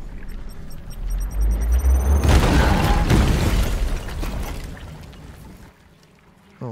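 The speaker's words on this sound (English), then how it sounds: "Launch a grenade in the middle of everybody." A grenade blast in the Warhammer 40K Chaos Gate tactics game, a heavy booming burst that swells and rumbles, then fades slowly over several seconds.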